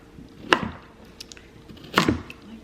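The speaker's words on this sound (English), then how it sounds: "I'm basically gonna slice it like this." A knife slicing through a carrot on a cutting board in a home kitchen, two crisp, separate cuts about a second and a half apart, each ending in a woody knock, close and clear with no voices.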